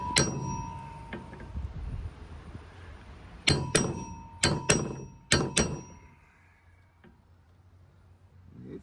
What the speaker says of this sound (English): I can hit this top of this cap with it, and it'll go down through the